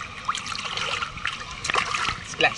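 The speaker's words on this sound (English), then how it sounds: "Splash, splash, splash." A small child splashes in water during a summer outing, producing a few irregular splatters and trickles with a brighter splash near the end, while adult voices talk over it.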